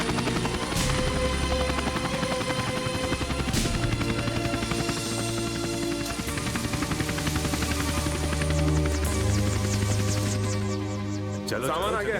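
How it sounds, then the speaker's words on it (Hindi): A landing helicopter's constant rotor drone and engine whine fill the scene loudly and steadily, with voices faintly mixed in. "हेलीकॉप्टर लैंड हो चुका होगा।"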